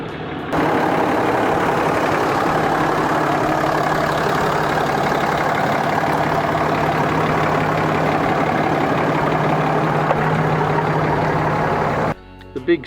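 A RAM 2500 4x4 pickup's 6.7 litre Cummins diesel six idles with a steady, even low rumble for several seconds, close and uninterrupted, then cuts off abruptly at the end.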